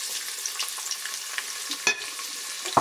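Carrots sizzling and being stirred in hot sunflower oil in a heated pot, a steady bright frying hiss broken by a few sharp scrapes and clinks of the spoon, with no voices.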